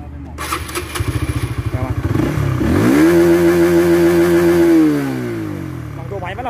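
A Yamaha Exciter 155 motorcycle engine revs up hard to around 10,000 rpm, a loud, close, sustained high whine that holds steady for a couple of seconds before dropping back, with idle chatter at the start.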